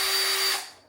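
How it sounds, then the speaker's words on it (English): A battery-operated drill whirs at a steady high pitch, close and loud, then spins down and fades out within a second. "Yes, a battery operated drill."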